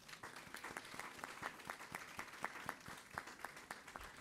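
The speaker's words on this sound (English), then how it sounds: "Please give them a huge round of applause." Steady applause from an audience at a school prize-giving, dense clapping with sharp individual claps standing out, sustained at an even level throughout.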